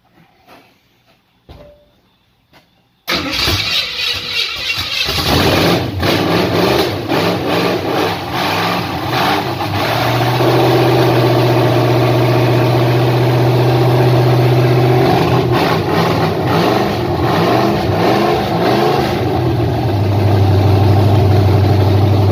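Hot-wired V8 in a 1949 Ford F-1 truck cranks after a quiet pause, then fires and settles into a loud, steady idle with a few rev swells, close up.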